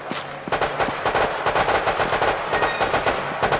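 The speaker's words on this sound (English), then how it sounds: "What are you shooting at now?" Rapid automatic gunfire in the video game Resident Evil: Operation Raccoon City, a dense stream of bursts firing continuously, loud and close with no talk over it.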